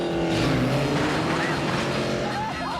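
The tricked-out Herbie Volkswagen Beetle's engine roars and revs under dense trailer music and effects, a steady loud drone with some skidding noise.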